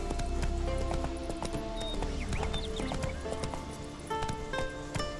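Geralt's horse Roach galloping in The Witcher 3, rapid rhythmic hoofbeats close by on the ground, along with a brief whinny and game music underneath.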